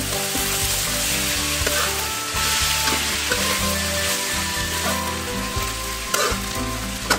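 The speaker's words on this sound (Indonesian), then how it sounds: "Masukkan buncis dan daun salamnya bunda. Kita aduk kembali." Green beans and bay leaves sizzle steadily in a hot frying pan for a stir-fried rice vermicelli dish, with a spatula stirring and scraping in irregular strokes throughout, loud and close.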